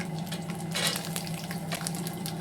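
Ingredients frying in a pan for Tamil-style coconut rice, a steady soft sizzle with light crackle and occasional stirring scrapes, close and continuous with no talk.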